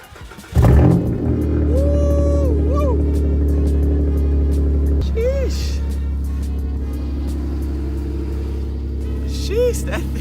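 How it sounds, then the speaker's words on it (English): 2015 Chrysler 200 cold start, the starter catching and the engine flaring to a loud rev before settling into a steady high idle, with a voice speaking briefly over it. "I'm gonna give y'all this clean cold start real quick."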